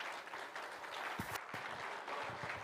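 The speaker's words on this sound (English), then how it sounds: "Could I ask you one last time to all stand and just give a big round of applause for Brian Lara himself?" An audience applauds for Brian Lara at a meet-and-greet event in Nepal. The clapping is faint and distant and continues steadily throughout.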